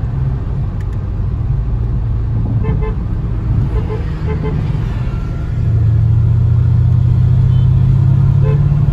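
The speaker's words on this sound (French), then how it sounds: "Ouais, il klaxonne." A car horn toots amid a loud, rumbling engine and road noise at night in Lyon, with brief voices in the background.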